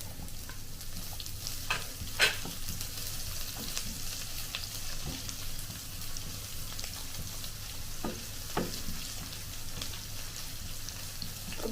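Onions sizzle softly in a pan for a Kerala-style vanpayar mezhukkupuratti, with occasional scraping stirs and light crackles over a steady quiet fry, no voices.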